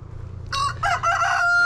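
A rooster crows loudly and alone in a rural chicken yard, one drawn-out, broken call lasting about a second over a low steady hum.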